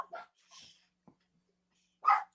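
Dogs bark at a distance during an outdoor conversation, giving a few faint, scattered yips and barks, and one louder bark near the end.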